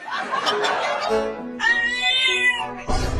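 A small kitten gives several thin, rising meows close by, with other brief vocal sounds around them.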